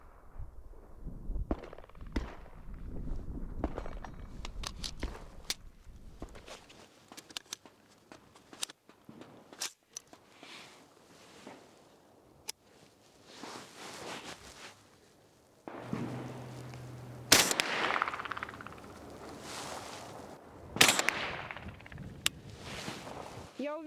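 Gunshots from a rifle fired at targets while zeroing a thermal sight, sharp loud reports scattered across the clip with thuds and movement noises between them, and speech at times.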